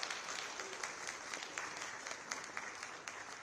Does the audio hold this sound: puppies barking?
no